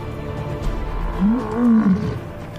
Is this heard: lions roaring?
yes